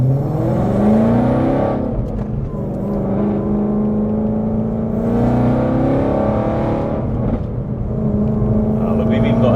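An 862bhp supercharged Mustang GT accelerates in repeated surges, a loud close engine roar whose pitch climbs steadily between brief dips at gear changes, with people talking in the cabin over it.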